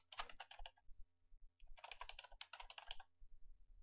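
Keystrokes on a computer keyboard while entering an email username into mail server connection settings, with a burst of rapid clicks, a brief pause, then a longer steady run of close, crisp typing.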